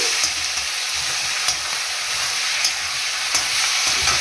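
Potatoes and garlic fry in a pan for a pepper potato dish, a loud steady sizzle with occasional scraping stirs and clinks of the spoon against the pan, no voices.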